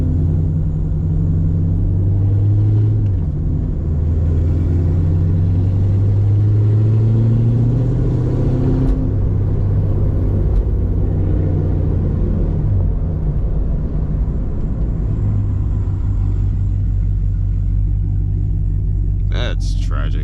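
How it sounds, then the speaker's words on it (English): Late-night drive in a manual Chevrolet Camaro SS 1LE, its engine droning and rumbling steadily from inside the cabin, rising and falling through downshifts, with someone talking over it. "those downshifts are lethal"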